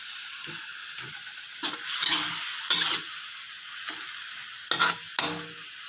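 Tilapia fish frying in a wok, a steady crackling sizzle with intermittent louder bursts and stirring clatters as pieces shift in the hot oil, close and without talk.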